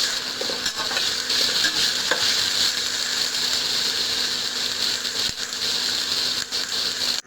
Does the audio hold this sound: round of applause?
no